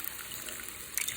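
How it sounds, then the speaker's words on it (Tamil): Boiled white pumpkin and its cooking water poured into a pan, a soft close trickle of liquid running steadily with a slightly stronger splash near the end. "வேக வச்ச வெள்ளை பூசணிக்காய் அந்த தண்ணியோடையே சேர்த்துக்கணும்."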